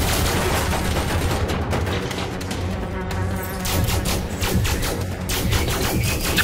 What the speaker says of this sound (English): Commencing covering fire.